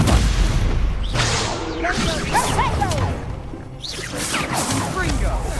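Spell impacts and magical whooshes in Hogwarts Legacy during combat, a series of swishes, cracks and booming hits over a couple of seconds, with a voice calling out spells.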